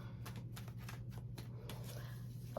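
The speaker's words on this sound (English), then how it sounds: "I'm going to throw these cards right back in, and I'm going to just shuffle one more time" Tarot cards are shuffled with rapid soft riffling and flicking, a quiet close-up series of papery bursts lasting a couple of seconds.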